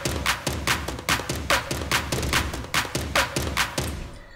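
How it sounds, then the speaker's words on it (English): A snare drum sits far back in a melodic bass electronic mix, hitting in a steady, quick repeating pattern of crisp, evenly spaced strikes over a dense musical bed. "Then we have like a snare that's like way behind,"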